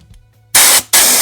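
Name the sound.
compressed air hiss from connecting an air gun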